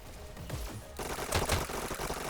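Submachine gun fire in a video game, rapid rattling bursts at a high fire rate, moderately loud and continuous with a short lull before the shooting intensifies.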